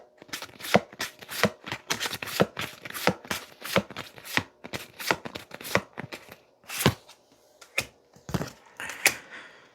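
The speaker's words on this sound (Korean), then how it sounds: "마지막으로 색상 카드 2장을 한번 뽑아보고 마무리하겠습니다" Tarot color cards are shuffled and drawn in a string of sharp, close slapping and riffling bursts, irregular in rhythm with short pauses between, quiet and with no talk.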